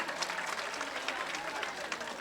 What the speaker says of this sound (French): Je vous demande des applaudissements pour M. Ahmadou Tall